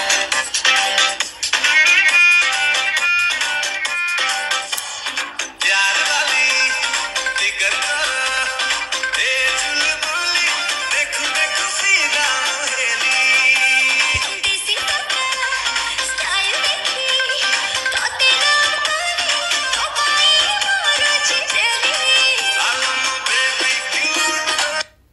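A song plays on a phone during a screen recording, dense and steady with bright melodic lines throughout, loud and continuous with no talking over it.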